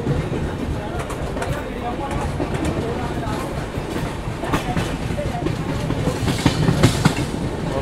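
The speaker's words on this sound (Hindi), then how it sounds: "अमरापुर एक्सप्रेस श्री गंगानगर से बैंडवे टर्मिनस को जाने वाली, एक नंबर प्लेटफॉर्म पे आते हुए।" The Amrapur Express from Sri Ganganagar rolls into platform one, a continuous rumble of wheels with clickety-clack rhythm on the rails and faint birds in the background.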